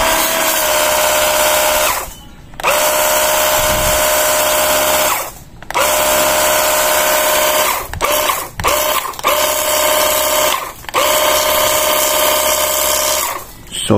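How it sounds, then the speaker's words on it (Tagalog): A portable wireless high pressure washer runs with a loud, steady motor whine, cutting out briefly several times as the trigger is released and squeezed again. "pwede na po natin matesting itong ating high pressure washer"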